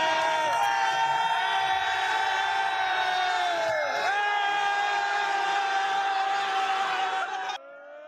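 Crowd at a Boston World Cup fan fest cheering and whooping around a police officer in a group hug, a dense, loud, continuous wall of voices that cuts off abruptly near the end.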